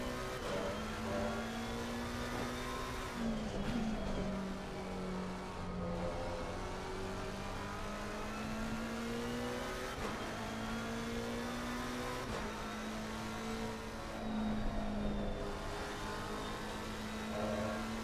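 Race car engines in the Assetto Corsa Competizione sim at Watkins Glen, a steady droning whine that shifts pitch with gear changes and revs, heard at a low level without talk.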